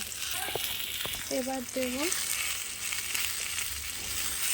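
Raw mango pieces cook in hot oil for a sweet-sour-spicy pickle, giving a steady, close sizzle throughout while someone speaks briefly over it.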